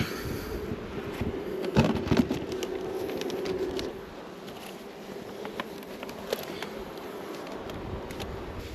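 Honey bees fan at the entrance of a new nuc colony, a soft continuous buzzing drone close by, louder with a few handling knocks early on, then quieter and steady.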